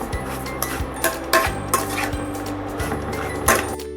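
A spoon stirs and scrapes a betel leaf mixture in a pan on a low flame, giving repeated metallic clinks and scrapes in an irregular rhythm, close and moderately loud, with no talking.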